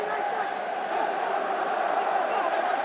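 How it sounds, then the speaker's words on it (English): Vocal rugby crowd roaring steadily through a stadium in Marseille during a France match at the 2023 Rugby World Cup, a dense sustained wash of cheering with a commentator talking over it. "Still such a vocal crowd here in the ancient city of Marseille"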